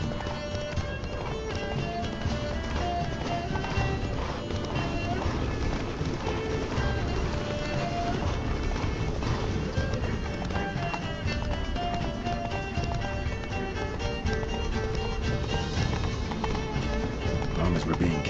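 Hooves of Geralt's horse Roach pound steadily at a full gallop in The Witcher 3 game, loud and continuous with rhythmic clip-clop over music.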